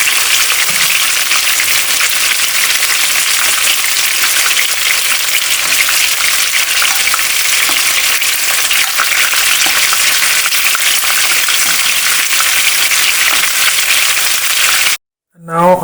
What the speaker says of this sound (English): We're almost done frying, and we're going to take our chicken off our frying pan